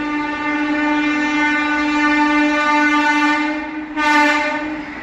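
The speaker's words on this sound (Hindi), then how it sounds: "ये भारत एक्सप्रेस ओवरटेक करने वाली है अपनी इटावा आगरा मेमू" A Vande Bharat Express rushes past to overtake a halted Etawah–Tundla MEMU local, its loud, steady rumble of rolling coaches carrying throughout, with a horn-like harmonic tone and a brief hiss swelling near the end.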